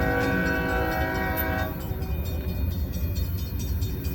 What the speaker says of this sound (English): I'm starting to hear the train coming